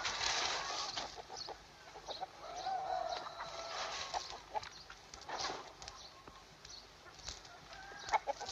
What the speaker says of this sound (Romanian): Dă tu de mâncare la găini.